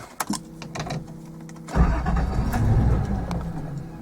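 A warmed-up car engine cranks briefly and catches at about two seconds, then settles into a loud, steady idle rumble close by, with no talking.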